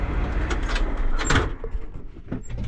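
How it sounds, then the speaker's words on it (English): A vehicle cab door opens against a steady engine or air rumble, with a few latch and hinge clunks in the middle, close by and moderately loud. "We'll open the door again"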